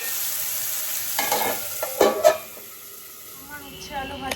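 Sliced bitter gourd and potato crackle in hot oil as a spatula stirs them, with a few close scraping strokes and clanks midway over a steady soft sizzle that fades near the end.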